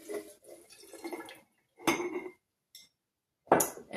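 Everclear grain alcohol is poured into a glass jar of fresh burdock root in short bursts, with glassy clinks and liquid splashes separated by brief silences, close and moderately loud.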